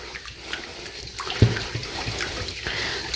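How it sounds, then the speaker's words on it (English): Hands rinsed under a running kitchen tap after handling lemon juice, a soft steady splashing with a brief knock partway through, fairly quiet and close. "let me just rinse my hands with all this lemon juice"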